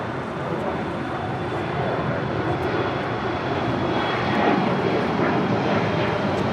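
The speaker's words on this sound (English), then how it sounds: "A350-900, arriving on 25 left" An Airbus A350-900 airliner arriving on runway 25 left at LAX, a loud, steady engine roar with broadband rumble swelling slightly as it passes, heard alone without talk.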